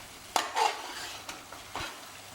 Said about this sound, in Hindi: खोल के मसाले को भुनेंगे।